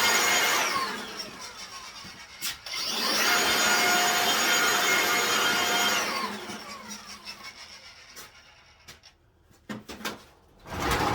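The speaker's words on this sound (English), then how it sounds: "We'll blow this driveway out a little bit." A handheld leaf blower clears a driveway with a steady, loud whooshing roar that runs for a few seconds, drops off, then surges again for a longer blast before trailing away into quieter shuffling noises.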